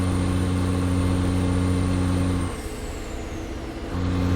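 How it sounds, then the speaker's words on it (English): A Cummins NTC Big Cam engine in a Mack R truck in American Truck Simulator drones steadily with a high thin turbo whistle above it; midway the tone drops and the whistle slides downward before the drone returns. "this thing has a kind of loud turbo whistle"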